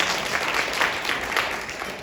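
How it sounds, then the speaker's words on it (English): Audience applause after a student auditions panel discussion held by a singing teachers' chapter, a full, even round of clapping from a room of people, sustained and fairly loud. "Give yourself a big round of applause"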